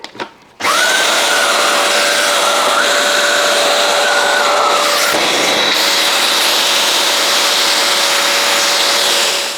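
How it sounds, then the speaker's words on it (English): A vacuum cleaner switches on and runs loudly and continuously, close by, as it hoovers dust from a Beko condenser tumble dryer. Its whine shifts slightly midway. "It's also a good idea to have a paintbrush to actually agitate the actual dust so you can hoover it up."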